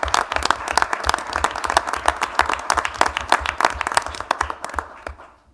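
A school board meeting audience gives a steady round of clapping for a retiring staff member, dense and close for about five seconds before tapering off to quiet.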